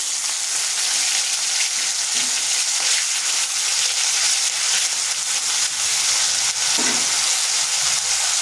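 Whole cumin seeds and onion paste fry in hot oil in a pan, giving a loud, steady close-up sizzle with a few soft stirring scrapes and no voices.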